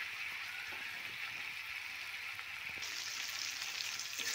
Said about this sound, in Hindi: अब मैं टमाटर डाल देती हूँ, चला लेती हूँ।